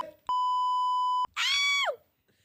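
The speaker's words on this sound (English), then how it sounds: "make sure you beep it out" A censorship bleep covers a swear word on a podcast: a loud, steady electronic tone holds for about a second, then another voice-like burst follows briefly before quiet.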